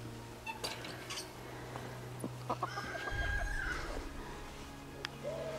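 Hens clucking and murmuring nearby in a henhouse, with scattered soft clucks over a low steady hum and a few faint clinks.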